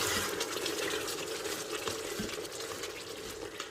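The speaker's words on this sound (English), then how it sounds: "And then just stir that in." Yogurt is stirred into lamb inside a Duo 7-in-1 Instant Pot, a steady close wet swishing and churning with soft spoon scrapes throughout, no voices.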